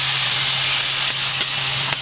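Loud, steady sizzle of mushrooms frying in melted butter in a pan, a continuous bright hiss with faint stirring clicks.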